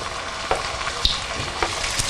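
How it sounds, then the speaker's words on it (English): Homemade samosas sizzle in hot oil, a steady close crackle of frying with a few sharper pops and stirring clicks, no voices. "Then we're just going to put these into our oil."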